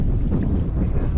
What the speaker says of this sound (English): As we're sailing past at about